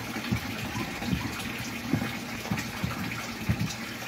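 Cold water pouring and gushing into a large batch of homemade liquid soap made from used cooking oil, a steady close splashing flow with soft irregular bursts and no voices.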